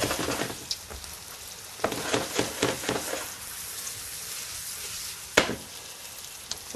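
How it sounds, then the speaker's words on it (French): Sliced zucchini sautés and is tossed in a hot pan with seasoning for a Provençal tart. A steady close sizzle runs throughout, broken by several rattling clacks as the pan is jerked and the pieces are flipped. No one speaks. "on va la faire ressauter pour bien mélanger notre assaisonnement"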